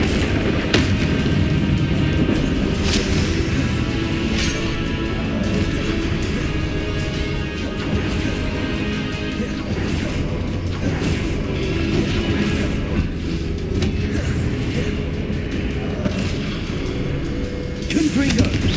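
Repeated Confringo blast spell explosions in Hogwarts Legacy, booming crashes in a continuous loud battle mix, with voices calling out spells throughout.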